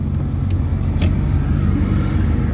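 Car moving off as the clutch is gently released during a driving lesson, a steady low engine drone close by throughout, with a brief higher hiss midway and no talking.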